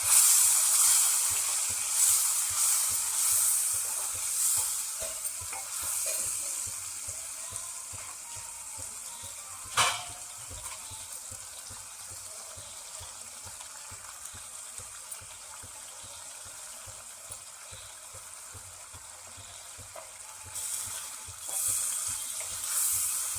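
Ground masala paste fries in oil in a pan for Agri-style prawn curry, a continuous close sizzle with soft stirring scrapes and a brief louder spatter midway, no voices.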